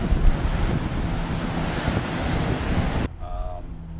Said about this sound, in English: Now here I am in the middle of a calm, peaceful ocean.